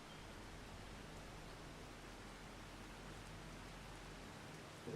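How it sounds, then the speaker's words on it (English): Steady rain falls on a farm, a dense, even hiss that holds through the whole stretch with no voices. "I can still hear the rain."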